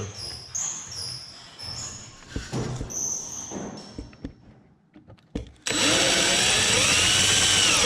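Screws are driven into Versetta Stone veneer on a wood stove chimney wall. Scattered handling knocks and brief whirs are followed by a loud, close, continuous power drill whine for the final two seconds.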